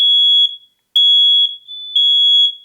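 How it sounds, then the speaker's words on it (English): A combination smoke alarm sounding during a home inspection test, giving loud, piercing high-pitched beeps in a repeating on-off pattern, with one short gap before the tone resumes. "this should make all alarms go off."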